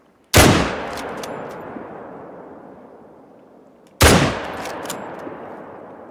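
Rifle gunshots in the hunting video game Hunter Call of the Wild: two sharp, loud single shots about four seconds apart, each followed by a long rolling echo decaying across open terrain, no talk.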